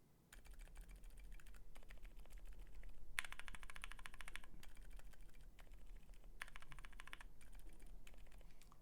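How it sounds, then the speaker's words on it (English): Soft, muted bursts of typing on a keyboard fitted with Durock Shrimp silent tactile switches, quiet clustered keystrokes in short runs with small gaps, faint and close. "you can kind of hear the tactile bump as you press down on it on the silent version"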